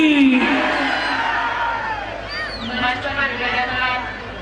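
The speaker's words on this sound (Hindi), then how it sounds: "ताली लगाने एक बार जोरदार बोल श्री रामचंद्र महाराज की।" A crowd at the Dussehra Mela in Sector 46, Chandigarh, cheering and whooping in a loud outdoor swell, with an amplified voice over a sound system riding above the roar.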